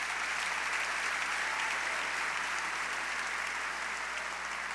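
A church congregation at a Portuguese-language worship service applauds in a steady, even patter of many hands. The clapping sounds somewhat distant and soft throughout.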